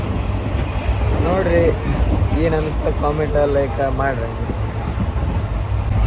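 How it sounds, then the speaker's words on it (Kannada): A moving train makes a steady low rumble that runs under someone talking close by for the whole stretch. "ಟ್ರೈನ್ 8 ಸ್ಪೀಡ್ ಹೊಂಟದಂತ ತೋರಿಸ್ಲಿ ನಿಮ್ಗೆ."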